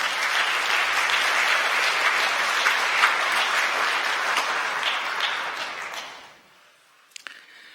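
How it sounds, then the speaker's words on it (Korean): Enthusiastic applause from a church congregation welcoming a newcomer during a Sunday service fills the room for about six seconds, then fades out, leaving near silence with a few faint knocks. "여러분들 환영의 박수 부탁드립니다"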